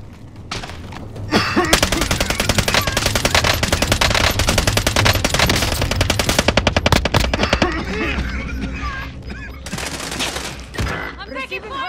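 Sustained automatic gunfire rattles through a video game firefight, dense rapid bursts lasting several seconds, loud and close, then thinning to scattered shots with game sounds behind.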